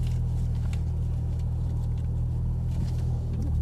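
A Porsche 991 Turbo sports car pulls away on a Las Vegas racetrack pit lane, its engine giving a steady, loud low rumble throughout with little change in pitch.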